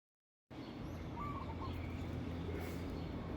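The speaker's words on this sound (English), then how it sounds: "That, I believe that's just some pigeon or something" A pigeon calls outdoors against a steady, fairly loud ambient rumble, its faint cooing notes thin and partly buried in the background noise after a brief silence at the start.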